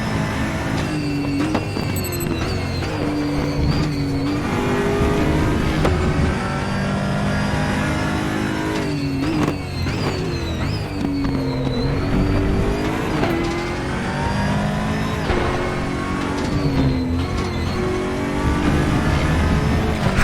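Aquila CR1 race car in the RaceRoom sim at Portimao, its engine loud and continuous throughout, revving hard through gear changes with rising and falling pitch and brief lifts, no voices.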